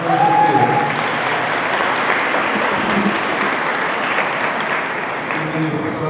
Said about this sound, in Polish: Może jakieś brawa dać